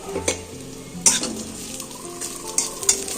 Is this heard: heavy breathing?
no